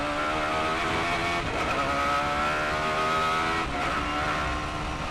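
A Radical SR8 race car accelerates hard around the Nürburgring, its engine a loud, steady, close-up drone with a faint dip in pitch midway.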